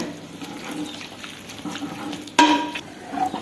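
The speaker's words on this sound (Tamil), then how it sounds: "இதை மற்ற வச்சு நல்லா நம்ம கடைஞ்சி விட்டுடலாங்க" Cooked flat lentils (cowpeas) being mashed in a pot, soft scraping and squelching strokes running steadily, with a sharper clatter partway through, close by and moderately quiet.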